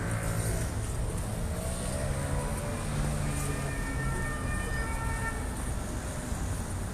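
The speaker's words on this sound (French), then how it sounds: "Des sirènes, bon bah pour l'instant c'est pas pour nous." Emergency vehicle sirens wail along a busy city street during a yellow-vest protest, a steady wavering tone over constant crowd and traffic noise, heard from a middle distance.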